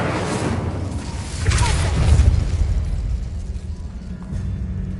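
A fire spell, Incendio, cast in the Hogwarts video game: a loud whooshing burst that swells to a booming peak mid-clip, then rumbles away.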